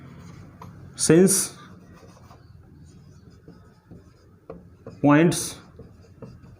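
A chalk or marker scratches out a maths solution on a classroom board, a soft, steady scraping that runs faintly beneath a teacher's lecturing voice, which rises in two short bursts.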